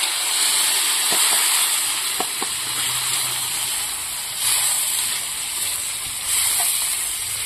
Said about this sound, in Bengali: পেঁয়াজটা ভাজা ভাজা করে নিয়েছি